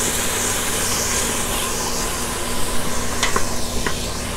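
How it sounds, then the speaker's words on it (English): Garlic and ginger being stirred in the pot of a GeekChef electric pressure cooker, a steady soft sizzle with faint scraping and a couple of brief utensil knocks near the end. "And give that a stir."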